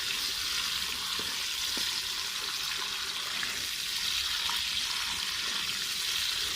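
Amla (Indian gooseberry) browning in a pan gives off a steady, dense sizzle that runs evenly throughout, close and fairly loud, with a few faint scrapes from stirring and no talking.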